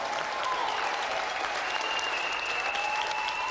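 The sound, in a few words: applause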